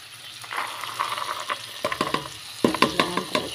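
Vegetables with mango cook in oil in a pan, a soft sizzle giving way to quick, close clattering stir strokes that grow busier toward the end.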